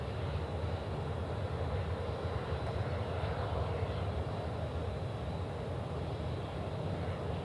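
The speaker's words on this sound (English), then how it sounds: "Qatari 64 Lima, runway 16 right, you're cleared for takeoff." A Qatar Airways airliner taking off from runway 16 right at Sydney Airport, heard as a steady, broad jet roar at moderate distance, unbroken and without voices.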